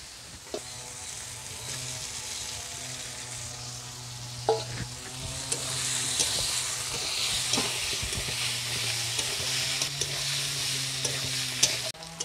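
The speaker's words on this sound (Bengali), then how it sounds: "মশলাটা আমার প্রায় কষানো হয়ে গেছে, তেল ছেড়ে দিয়েছে। এখন দিয়ে দেবো মাছের মাথা।" A fish head fries in spice paste and oil with a constant close sizzle, broken by scraping stirs and occasional sharp clinks of a utensil against the pan, with no voices.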